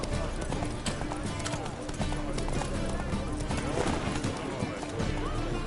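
Hooves clip-clop at a steady galloping rhythm as the horse Roach runs in The Witcher 3, a dense game soundscape filling the background with occasional vocal sounds mixed in.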